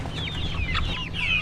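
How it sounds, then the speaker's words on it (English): Young 4-H chicks peeping and clucking together at close range, a steady chorus of high chirps over a low background hum, without any voices. "I am doing our 4-H chicks."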